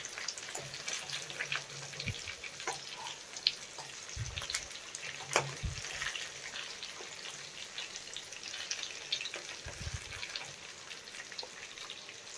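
Stuffed capsicum fries quietly in a pan, a soft steady sizzle and crackle running throughout, broken by a few brief louder pops and low clunks.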